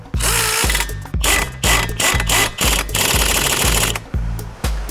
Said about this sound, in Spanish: Una vez puestos los tornillos, los apretamos.